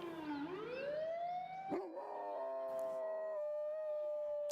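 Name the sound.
dog howling along with a siren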